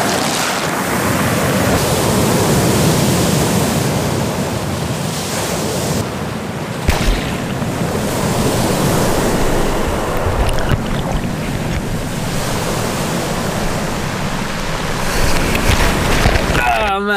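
Sea waves wash and break around a swimmer at sunset, a loud, close roar of surf that surges and splashes unevenly, with wind buffeting the microphone and no clear talk.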